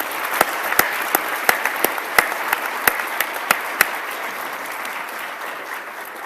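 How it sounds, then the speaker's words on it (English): Applause from an audience at a College of Science pre-commencement ceremony, a steady patter of clapping hands with a few sharp, louder claps standing out near the front, tapering slightly toward the end. "let's give him a round of applause nonetheless"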